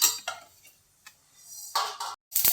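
Flax seeds dry-roasting in a pan give off sporadic small pops and ticks, separated by near-silent gaps, quiet and close.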